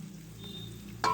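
A paste of ground black pepper, cumin and garam masala hits a hot pan for a boal fish curry, giving a soft, steady sizzle that ends in a brief louder splattering burst.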